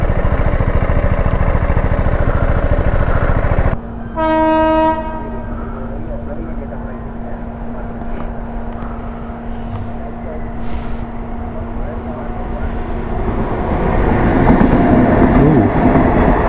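A train sounds its horn at a railway crossing, heard by a rider waiting on a BMW G310 GS motorcycle. A loud horn blast is followed by a long, steady rumble as the railcars pass close by.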